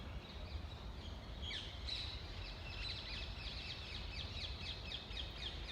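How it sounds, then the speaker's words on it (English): Harsh squawking calls of green parrots repeat across a busy outdoor ambience in a London park at sunset, several birds calling over a steady low rumble of distant traffic. "The ones that are squawking are the green parrots that live in this part of London."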